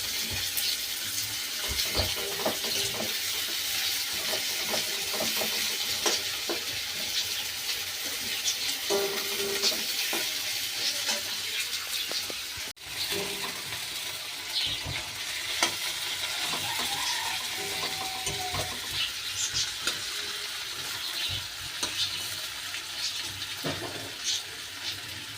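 Chopped onion and whole cumin sizzling steadily in a hot pan, browning to reddish, with repeated scraping stir strokes and light clinks throughout, close up and without any talking.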